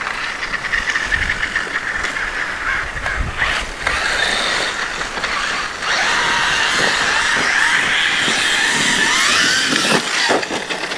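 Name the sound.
Traxxas XMaxx 8s RC truck climbing a steep hill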